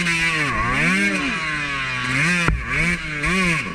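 A dirt bike engine on muddy singletrack revs up and down in repeated swells, loud and close, with a sharp knock partway through as the bike fights for traction.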